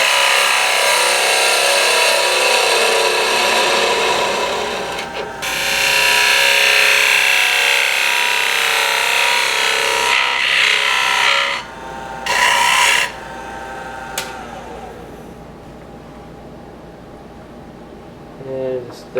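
A spindle gouge cuts wood on a faceplate-mounted blank spinning on a lathe, giving a steady, loud rasping scrape that runs nearly continuously, with short breaks as the tool is lifted and repositioned.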